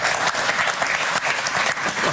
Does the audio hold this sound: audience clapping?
yes